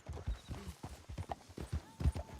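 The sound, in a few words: horse hooves riding, from video game Red Dead Redemption 2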